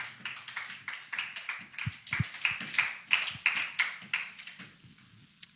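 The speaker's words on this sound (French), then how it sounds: "Est-ce qu'on peut acclamer pour eux," Applause from a church congregation, a steady patter of many hands clapping with irregular rhythm, moderately close and continuing for several seconds without talk.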